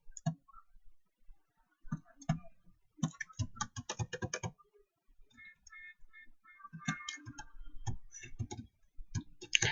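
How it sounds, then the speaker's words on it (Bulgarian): A computer mouse and keyboard click during a GTA: San Andreas play session, quiet close keystrokes in scattered bursts and rapid runs with short pauses and a faint game tone in the middle. "Може да чувате как кликвам мишката и клавиатурата."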